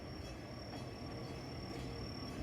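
A train running along a road at night in Enoshima, Japan, a faint steady rumble of wheels on rails with a thin high whine, heard alone at a distance.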